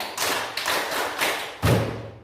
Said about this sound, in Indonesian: Tepuk tangan dulu untuk Adi